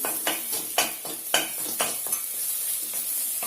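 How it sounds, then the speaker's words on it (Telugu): Egg curry being stirred and broken into pieces in a pan, a series of sharp scraping strokes with utensil clinks over a light sizzle, close up and without speech. "ఇప్పుడు బాగా కలిపేసుకోండి ఇలా ముక్కల్లా చేసేసుకోండి"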